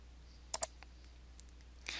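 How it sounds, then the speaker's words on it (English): Computer mouse clicks while opening a drop-down menu in an Excel spreadsheet: two quick, close clicks near the start, followed by a few fainter taps. "Click on the Type drop-down menu."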